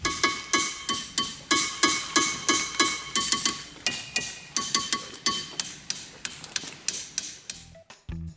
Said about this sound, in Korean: 망치에 닿았을 때 내는 소리가 이 평범한 바위를 특별하게 만들어주죠